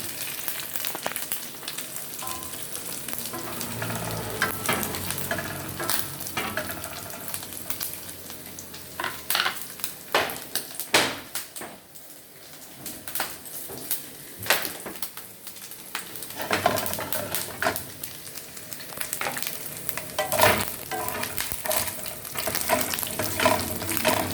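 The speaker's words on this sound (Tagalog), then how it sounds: "Igigisa ko na po yun." Food sautéing in a pan, a steady sizzle and crackle with scraping stir strokes and bursts of louder spitting, close and moderately loud with no talk.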